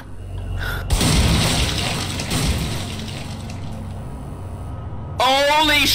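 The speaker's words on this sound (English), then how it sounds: "that explosion took 10 seconds to get finished" A loud, close explosion in the video game In Sound Mind bursts out and then rolls into a long, rumbling roar. A second sharp burst hits near the end.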